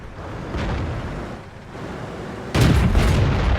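Tank cannon fire and shell impacts in the World of Tanks video game, a dense rumbling blast that swells, dips, then erupts into a louder sustained burst near the end, heavy and close with no talking.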